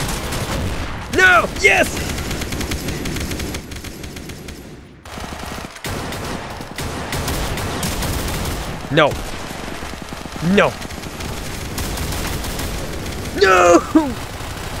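Rapid bursts of Tommy gun fire crackle in the Roblox shooter game, dense repeated volleys running almost continuously, while a voice shouts briefly over them.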